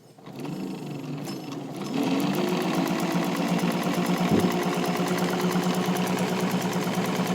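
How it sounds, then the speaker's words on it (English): A restored White all-metal rotary sewing machine stitches through four layers of garment leather, its steady mechanical whir running continuously and close, picking up slightly in loudness after a brief start. "I have 4 layers, which is a pretty good amount of garment leather to be sewing on any machine"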